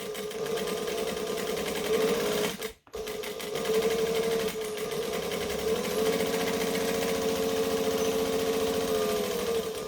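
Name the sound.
sewing machine stitching a bag seam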